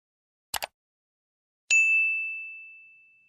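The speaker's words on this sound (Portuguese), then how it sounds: "aciona aí o sininho das notificações" A notification bell sound effect: a short double click, then a single bright ding that rings out and fades slowly, clean and isolated against silence.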